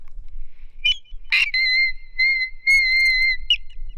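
A singer demonstrates the whistle register, with a sharp high squeak followed by a sustained, piercing thin tone that holds steady and then breaks off, solo and close.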